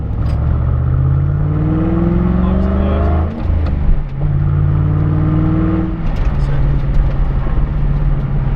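A Radical race car passes on a track, its engine rising in pitch as it approaches and then fading, then accelerating again, heard from inside a pulled-over Mustang Shelby GT500 with its own engine droning close by.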